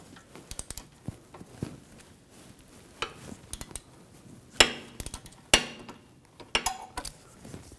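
A bolt is removed with an 8 mm hex socket on the rear caliper bracket of a 2004-2009 Audi A4 Quattro, giving scattered metallic ticks, clinks and ratchet clicks, several sharper clanks toward the end, close and fairly quiet.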